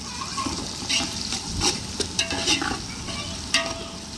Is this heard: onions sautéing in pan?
yes